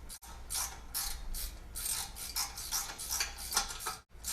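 A hand ratchet tightening bolts on the plate of a small printing press, giving a steady series of close, crisp clicking strokes repeated at an even rhythm.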